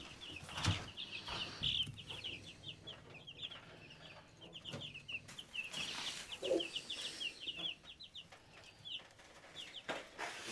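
Young chickens kept in a brooder behind reusable panels, with rapid high cheeping and peeping running throughout, a few louder clucks and brief wing flaps close by, over a low background murmur.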